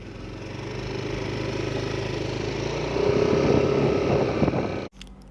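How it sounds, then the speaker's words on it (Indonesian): Yamaha NMAX automatic scooter accelerating from a standstill toward 100 km/h, a steady droning engine that grows louder and harsher midway, then cuts off abruptly near the end. "Jadi gue ngetes kecepatannya, kecepatan motor ini sampai 100 km per jam nggak dari benar-benar pure nol."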